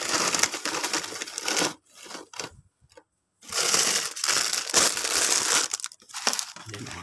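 A plastic straw is handled and crinkled up close in bursts of crackling, with short quiet gaps between the crumpling sounds.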